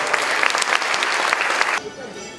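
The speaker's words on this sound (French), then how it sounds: "Allez, un petit applaudissement pour eux" An audience at a Telethon launch gives a short burst of applause for race supporters, loud, dense clapping that stops abruptly near the end, leaving a quieter room tone.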